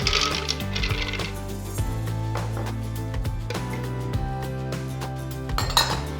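Raisins and other hard dry ingredients clatter and tumble into a blender bowl, a busy stream of clinks and knocks heard up close, with no one speaking.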